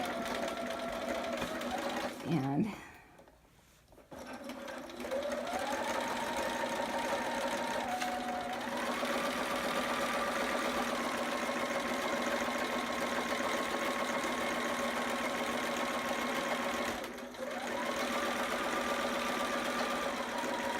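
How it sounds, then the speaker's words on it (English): Sewing machine straight stitching a quarter inch seam with a steady motor whine and needle chatter, interrupted early by a short pause and handling noise, then running long and even with a brief dip near the end. "I'm going to do a straight stitch. And a 1/4 inch seam allowance."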